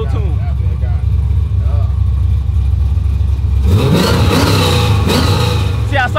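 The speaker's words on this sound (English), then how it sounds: "I'm gonna touch the gas one time for y'all" A dyno-tuned 1987 Chevy Caprice with an LS 6.0 V8 idles with a deep rumble, then revs up sharply partway through. The engine is loud and close, and people talk over it.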